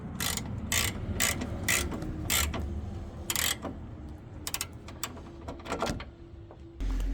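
A ratchet clicks in quick irregular bursts while snugging down a bolt on an aftermarket Harbor Freight horn mount in a 2004-2009 Toyota Prius engine bay, close and fairly quiet, with a few pauses between strokes.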